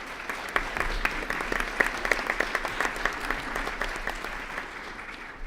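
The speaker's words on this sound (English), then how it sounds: "Also a big round of applause" Applause for Navy Junior ROTC cadets at a school board of education meeting, a steady room-filling clatter of many hands clapping, sustained and moderately loud with no voices over it.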